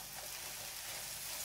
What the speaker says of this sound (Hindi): इसमें हम ये जो हमारे एग हमने मिक्स किए थे ये ऐसे इस तरह से डाल देंगे। ये एग को हम स्क्रैम्बल कर देंगे